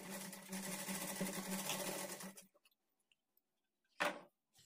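A sewing machine stitches fabric for a blouse tassel, running in a steady whir for about two seconds, then stopping, with a brief closing burst after a quiet pause.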